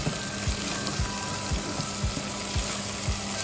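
A stew frying in a pot is stirred, giving a steady close sizzle with faint liquid movement and a few soft low knocks of the spoon against the pot, roughly every half second.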